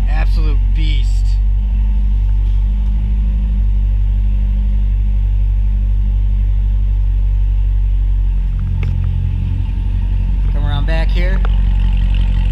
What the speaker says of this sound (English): So let's get ready to start her up.